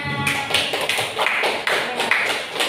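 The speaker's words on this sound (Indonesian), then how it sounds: "Tepuk tangan." Students in a classroom clap together in a quick, uneven burst of close, sharp hand claps that goes on steadily for a few seconds.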